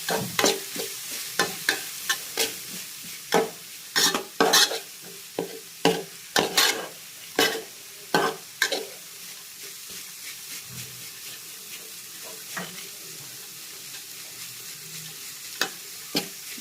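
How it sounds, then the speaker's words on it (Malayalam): Chopped banana blossom frying in oil with onions for Kerala thoran is stirred with a utensil, giving repeated sharp scraping taps over a steady close sizzle that thins out in the later seconds. "കൂമ്പിട്ടതിന് ശേഷം ശകലം നേരം ഒന്ന് ഇളക്കണം."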